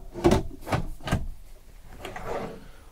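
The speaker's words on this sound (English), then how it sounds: "A very tight soft closing drawer, which is good." A soft-close drawer in a camper van kitchen, a 2023 Midwest Automotive Designs MD2 170EXT, slides and thumps shut several times with a few close, muffled knocks and no talking.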